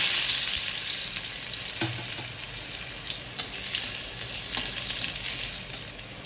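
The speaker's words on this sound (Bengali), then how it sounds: "সেই রসুন দিয়ে দিলাম তেলের মধ্যে" Small pieces of chopped garlic dropped into hot oil, giving a steady, close hiss of sizzling with occasional light stirring clicks and no voices.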